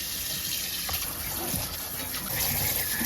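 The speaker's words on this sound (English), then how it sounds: "Put the cold water on it" Cold water runs from a kitchen tap onto a hot cooking pot, a steady close hiss and splash of flowing water with brief clatter, no talk over it.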